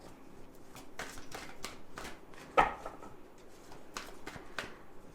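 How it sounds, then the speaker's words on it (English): Tarot cards being shuffled by hand in a quiet room, a series of brisk papery riffles and slaps repeating for several seconds, with one sharper snap near the middle and no voices. "So, we are going to shuffle these cards"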